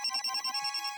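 A cartoon telephone rings in a rapid electronic trill, a steady run of pulsing bursts filling the short moment alone, with no voices over it.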